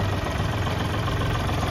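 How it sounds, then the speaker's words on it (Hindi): Diesel car engine idling with the bonnet open, a steady low rumble with a faint knocking vibration running continuously and close by, no talk over it. "तो अभी आप नॉइस सुन सकते हैं इंजन की"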